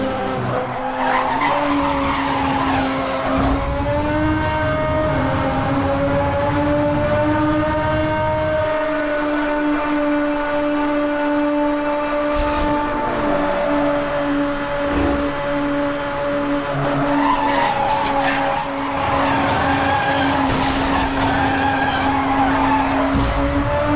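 Car engine revving through gears in the racing game Need for Speed, with repeated tire skidding and squeal over a steady loud drone, no talk.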